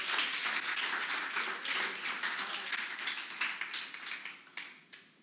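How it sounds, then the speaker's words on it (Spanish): Church congregation applauding at a sermon, a dense wash of clapping that holds steady and then thins into scattered individual claps near the end. "Dale un aplauso al Rey si puede, iglesia."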